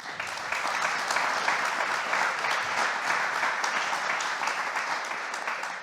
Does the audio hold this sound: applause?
yes